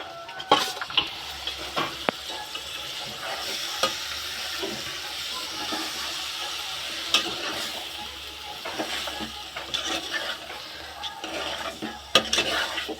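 Onions, carrots, tomatoes and green chillies sizzle gently in a pan while being stirred, soft frying hiss under scattered clinks and scrapes of a utensil against the pan, close and fairly quiet, with no voices.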